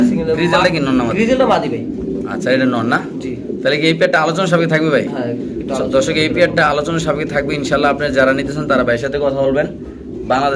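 Pigeons at a Bangladeshi pigeon seller's, cooing in repeated throaty calls close by while someone talks over them throughout.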